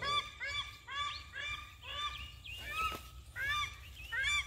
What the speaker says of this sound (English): These paradise ducks, man, they're just everywhere.